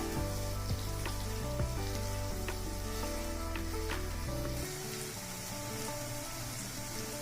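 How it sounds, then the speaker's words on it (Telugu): Ginger garlic paste frying in a pan gives a steady, even sizzle with faint tonal sounds behind it. The sizzle softens slightly partway through. "అల్లం వెల్లుల్లి పేస్టు అర స్పూన్ వేసుకోండి కలిపి పచ్చి వాసన పోయే వరకు వేగనిద్దాం"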